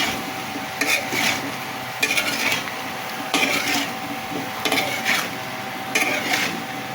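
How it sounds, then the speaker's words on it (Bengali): A utensil scrapes and clatters in a pan of pumpkin and shrimp curry, five bursts of stirring at roughly even intervals over a low background hum, close and fairly loud with no talking. "এবার একটু নাড়াচাড়া দিয়ে দিই"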